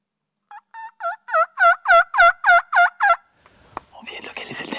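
A wild turkey gobbles back in a series of about eight loud, rapid, rhythmic warbling calls, each call stronger than the last, followed by faint rustling and outdoor noise.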